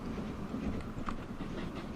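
An old-school generic train rolls along in Transport Fever 2, giving a steady low rumble with faint clickety-clack from the wheels and no talking.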